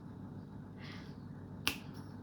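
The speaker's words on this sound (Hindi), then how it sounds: "ऐसे चुटकी।" A single sharp finger snap cracks close and crisp over a quiet room background near the end of the stretch, after a softer rustle.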